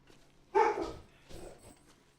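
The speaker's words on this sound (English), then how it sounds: "What's that bark?" Dog barks in The Long Dark video game: one loud close bark followed by a second softer bark about a second later, with no talking over it.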